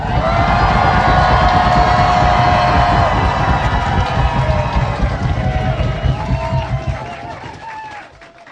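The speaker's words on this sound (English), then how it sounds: "big cheer for the live ones" Live podcast audience cheering and whooping loudly, sustained and close, fading out toward the end.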